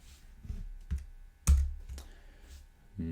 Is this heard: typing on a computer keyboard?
yes